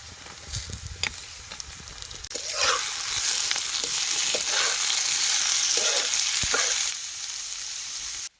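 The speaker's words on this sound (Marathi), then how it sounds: "कांदा भाजलाय आता याच्यात टमाट घालायचं" Tomatoes go into a pan of roasted onion and fry, starting with a few scattered clinks and stirs before a loud, steady sizzle swells up and holds for several seconds, then drops off near the end.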